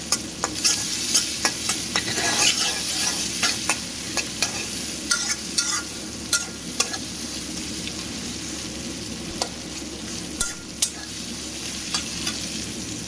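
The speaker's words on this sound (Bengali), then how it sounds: "তারপরে ভেড়া পেঁয়াজটা লাল লাল করে ভাজা হয়েছে" Onions fry in a pan of oil left over from frying fish, a close, continuous sizzle broken by regular stirring scrapes and clicks, with no talking.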